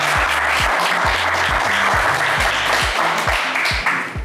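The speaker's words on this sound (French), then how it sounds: "On vous applaudit très fort, Abel" Loud, dense applause from a TV game-show studio audience on Le Coffre Magic, filling the whole stretch with steady clapping under a pulsing music bed.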